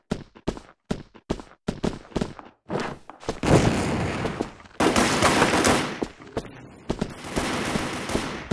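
Rapid gunfire in a shooter video game during a timed mission round: a run of sharp separate shots at the start, then loud sustained bursts of automatic fire close by, with no talking.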